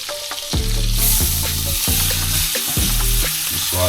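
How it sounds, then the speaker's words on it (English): Yellowfin tuna steak sears in a hot pan, a loud continuous sizzle and crackle that bursts in as the fish hits the pan and keeps frying up close, with no talk. "So a nice quick sear."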